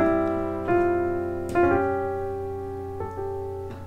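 Piano playing chord voicings, four separate chords struck about every three quarters of a second to a second and a half, each ringing and slowly fading, clear and close.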